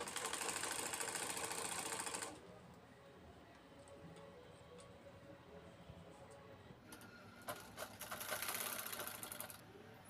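A sewing machine stitches through cotton fabric and piping while making a roti cover, running in a steady fast burst at the start, going quiet, then whirring again near the end. A voice talks faintly in the background.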